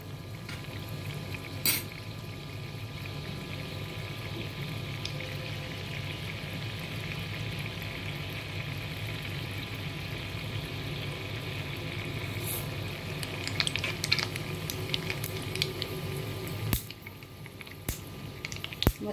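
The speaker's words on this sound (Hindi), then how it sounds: "मस्टर्ड सीड्स भी तड़कने लगे" Chana dal and mustard seeds frying in a pan of hot oil, a steady close sizzle with scattered small pops and crackles that grows busier toward the end, no talking over it.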